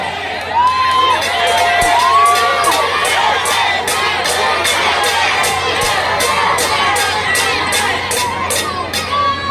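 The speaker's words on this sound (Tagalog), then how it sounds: "Ang sigaw ng mga tao ay Duterte" A large outdoor crowd at a political rally in Manila cheers and shouts continuously, with rhythmic chanting and whistles running throughout at a loud, steady level.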